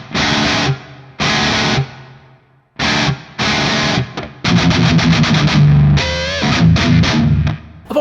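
Heavy, distorted metal electric guitar tone with a touch of reverb: loud chugging palm-muted riff, several sustained chords broken by short pauses, then rapid repeated hits, with an echoing tail after each stop.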